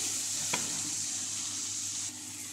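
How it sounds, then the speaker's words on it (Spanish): Parsley sizzling gently in a pan with salt and garlic, a soft, steady frying hiss with a single light clink near the start, heard alone and fairly quiet. "voy a dejar que se sofría un poco el perejil con la sal y el ajo que acabo de echar"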